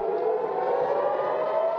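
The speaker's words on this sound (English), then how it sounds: "Sirens blare across southern Israel overnight as rockets from Gaza streak across the sky." Civil defense air raid sirens wail steadily across southern Israel overnight during rocket fire from Gaza, a sustained rising tone that fills the short stretch without pause.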